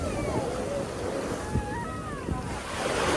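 Ocean surf at a Mumbai beach rolls and washes continuously nearby, a broad roar of breaking waves with wind buffeting the microphone and faint voices in the background.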